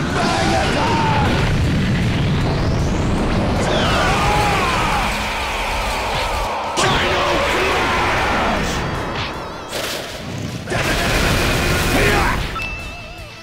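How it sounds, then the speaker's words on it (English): Big Bang Attack explosion from Super Vegeta in a Dragon Ball video game: loud repeated booming blasts and crashing bursts layered with sweeping effects, a shouting voice over them, tailing off and flaring again near the end. "Welcome to Super Vegeta's Big Bang Attack"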